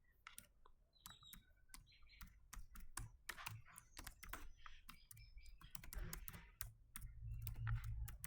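Java code is typed on a computer keyboard in quick, irregular bursts of close, crisp key clicks with short pauses, faint and alone with no talking.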